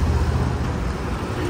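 Traffic rolls past on a wide 200-foot main road, a dense continuous roar of engines and tyres close by, steady and unbroken without speech.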